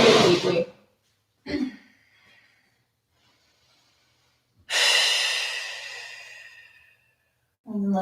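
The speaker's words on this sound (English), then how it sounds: "Still breathing deeply." Deep breathing during a seated yoga twist in a vinyasa class: a sharp inhale, a short breath, then a long slow airy exhale after a quiet gap, and another breath starting at the end, close and alone.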